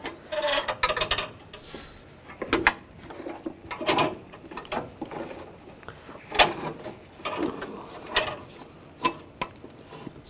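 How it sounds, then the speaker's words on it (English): An AC condenser on a 2004-2012 Chevrolet Colorado 3.7L being slid into position, irregular close scrapes, taps and metallic knocks of parts shifting and bumping into place. "Now slide the condenser in position."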